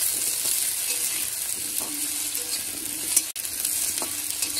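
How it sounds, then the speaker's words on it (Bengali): Steady, loud sizzling of shrimp frying in hot oil in a kadai, with an occasional light clink of a utensil. "এখন এই যে চিংড়ি মাছগুলো সব ভেজে নিচ্ছি"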